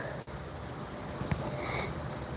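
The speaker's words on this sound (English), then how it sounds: "Cicadas are out." Cicadas singing outdoors by a river, a steady high-pitched buzzing drone filling the background at moderate distance, continuous and fairly faint with no talk.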